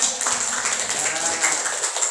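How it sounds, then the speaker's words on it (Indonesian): Classroom applause for a student group after a presentation in a twelfth-grade Islamic education lesson, a brief, steady patter of many hands clapping at moderate volume with faint voices underneath. "tepuk tangan untuk kelompok 4"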